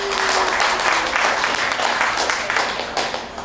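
Studio audience applause during a late-night conspiracy radio show, a steady wash of clapping across the whole stretch that fades slightly toward the end, with no talking.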